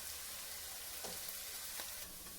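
Onions frying in a pan, a soft continuous sizzle with a couple of brief stirring scrapes, close and steady.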